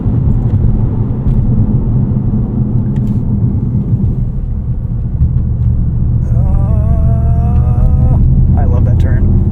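Inside a 2024 Mercedes-AMG GT 63 S E Performance 4-Door held in 4th gear at about 2,500 RPM, a loud, steady low rumble fills the cabin, and a rising engine note builds near the end as the car pulls.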